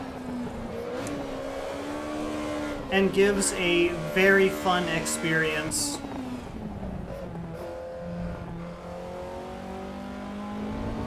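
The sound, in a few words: race car engine driving in Assetto Corsa video game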